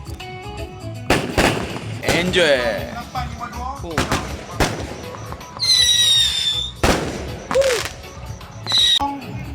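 Fireworks burst repeatedly at a campsite, loud sharp cracks with whistling and crackling trails spaced over several seconds, while people talk nearby.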